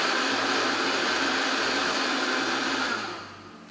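A kitchen blender runs at high speed, whipping oil into a chipotle chicken marinade until it turns thick like mayonnaise. A loud, steady whirring roar holds for about three seconds, then winds down and fades at the end.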